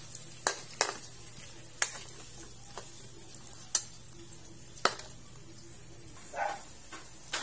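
Fishballs fry in hot oil with a steady low sizzle, broken by several sharp clinks and scrapes of a utensil against the pan at irregular intervals, close by and moderately quiet, with no talking.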